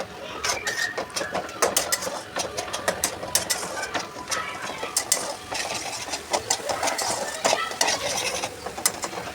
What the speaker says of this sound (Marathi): आता थोडा घरचा मसाला टाकूयात आता चांगलं परतून घ्यायचं आहे त्याला